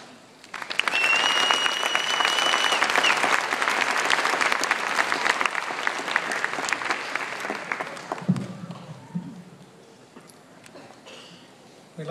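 Commencement audience at a university graduation ceremony applauds loudly for about eight seconds, a dense sustained wash of clapping that then fades to scattered claps and low murmuring.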